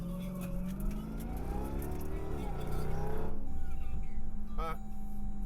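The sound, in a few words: Jeep Trackhawk supercharger whine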